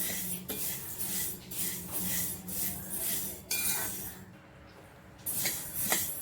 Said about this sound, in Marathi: मेथीच्या लाडूसाठी मी मेथी एक किलो मेथी घेतली मी ती अशी थोडी थोडी गरम करून घेणार आहे